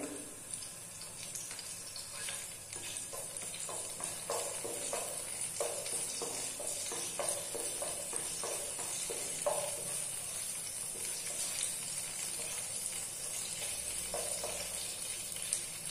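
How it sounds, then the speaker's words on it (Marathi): A bay leaf sizzles in hot oil in a pan on a gas stove while paneer kofta curry is made. It gives a steady close frying hiss with light stirring clicks and scrapes, and no one talks. "तेल तापलं तर मी पहिल्यांदा हे तेजपत्ता टाकते."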